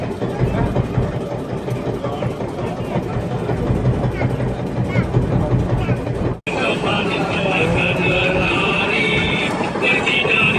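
A motorboat engine runs steadily on open water near Pulau Harapan during a fishing trip, a continuous mid-pitched drone that holds loud and close for the whole stretch, briefly cutting out once before resuming.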